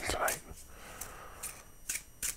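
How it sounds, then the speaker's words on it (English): Playing cards shuffled and handled close up during a quiet solitaire session, with crisp papery flicks and snaps in an irregular rhythm, soft and near, alongside hushed whispering. "These cards I think are good and shuffled."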